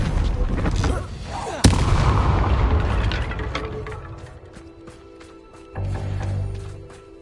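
A Bombarda spell explosion in the Hogwarts Legacy video game: a sharp booming crack followed by a rumbling, crackling blast, with scattered game effects and a brief spoken line.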